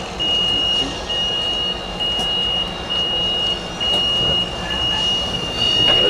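A Metrolink Orange County Line commuter train bound for Oceanside runs with a steady loud rumble heard from inside the car, while a high door-warning beep repeats in regular pulses over it, and no one speaks.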